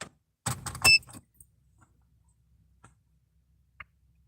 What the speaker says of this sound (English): turn on my car, I guess.